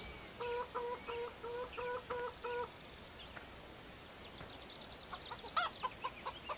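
Chickens cluck in a farming video game, a run of six or seven regular, evenly spaced clucks followed by a looser scatter of softer clucks and chatter, close and clear with no talk over them.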